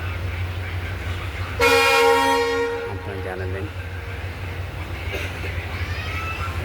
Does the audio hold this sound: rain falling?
no